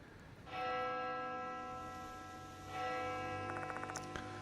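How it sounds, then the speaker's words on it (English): A resonant bell in the video game Spirit Hunter: Death Mark II rings twice, each strike leaving a long shimmering ring that slowly fades, with faint ticking near the end. "That bell again."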